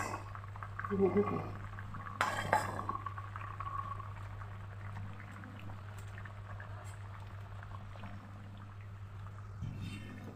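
Potato and singi fish curry bubbling in a pot on the stove, a soft, steady simmer beneath a low hum, with a few louder clinks and stirring noises early on and a voice speaking over it.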